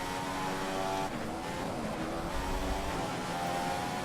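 F1 2015 race cars on lap 1 at the Italy round: a steady, high engine whine sounds close, with gear changes shifting its pitch, and a rival car roars past partway through.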